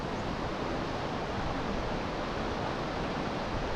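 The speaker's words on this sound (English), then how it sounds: "Water's starting to flow pretty good." A small waterfall at a camping spot gives a continuous broadband rush of flowing water, steady and moderately quiet with no voices.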